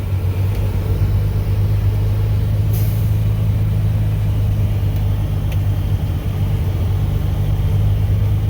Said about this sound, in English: In the summertime down here, trucks are everywhere.